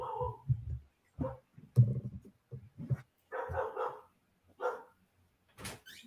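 A dog barks repeatedly in short, irregular bursts near a rooftop during a live baseball broadcast, loud and distinct against otherwise quiet surroundings.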